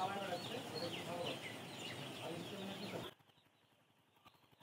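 Thousands of chicks in a poultry brooding shed, around 9000 birds, peep in a dense high chorus for about three seconds before the sound cuts to a faint background.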